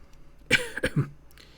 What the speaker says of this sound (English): weakly coughing into his arm